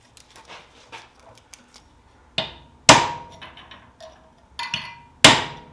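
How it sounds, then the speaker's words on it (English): Steel hammer blows strike a dagger guard while the blade is held in a clamp, three or four sharp metallic impacts at uneven intervals, loud and close, with faint tapping and handling noises between them and no talk. "What I can probably do is clamp the blade and then hammer down on the guard like that."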